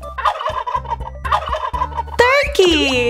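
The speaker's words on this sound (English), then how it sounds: "This animal likes to strut around and makes a gobbling sound to show its presence." A turkey gobbles twice in quick succession, loud and close, following a stretch of rhythmic strutting sounds and clucks.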